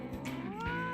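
A single cat meow from No More Heroes 2, short and close, with a rising, wavering tone lasting under a second.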